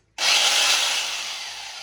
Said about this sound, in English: An electric drill on hammer setting, and we're just going to have to take this wall back down to brick.